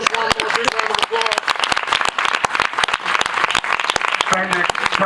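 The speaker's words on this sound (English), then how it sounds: "Rose one more big round of applause" An audience at a film Q&A gives another big round of applause, dense and loud clapping from many hands close by, steady throughout with a few voices and cheers mixed in.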